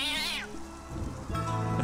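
A cat meows in the video game 9 Clues, a loud, close, drawn-out yowl that falls in pitch, followed by a second lower, whining meow, alone against a soft ambient game background.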